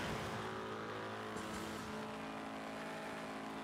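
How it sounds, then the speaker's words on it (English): A loud race car engine in a racing video game, roaring steadily with a droning tonal hum and a slight rise in pitch midway, continuous throughout with no talk. "This car is so fucking loud."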